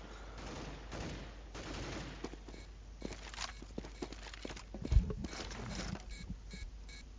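Scattered gunfire in the video game CS:GO, with muffled shots and footstep-like clatter under a busy, crackling game mix, mostly faint with one sharper burst near the end.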